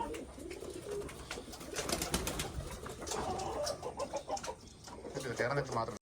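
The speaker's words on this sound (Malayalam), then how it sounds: "കുറേ അമ്പലപ്രാവുകളും കയറിയിരിപ്പുണ്ട് കേട്ടോ" Rock pigeons coo softly nearby, several birds murmuring in low repeated calls, with faint voices in the background.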